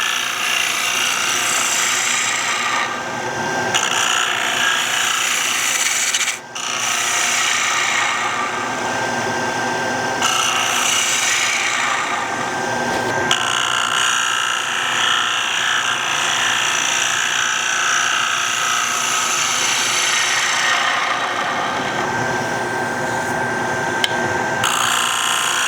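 A gouge cuts across the base of a wooden bowl spinning on a lathe, producing a loud, continuous rough roaring and scraping that holds steady for a long stretch with a brief dip partway through.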